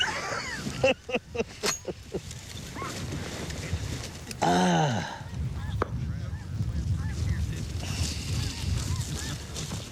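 Waterfowl on an outdoor hunting or nature program, a burst of loud honking and quacking calls, several short cries up close followed by a longer rising call, over a steady outdoor background.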